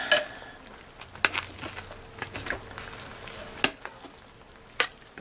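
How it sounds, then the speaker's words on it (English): Butter bean casserole stirred in a pot after hours of slow cooking, giving soft scraping and scattered utensil clinks against the pot over a low, quiet background, with no talking. "I want to come out and give this a stir"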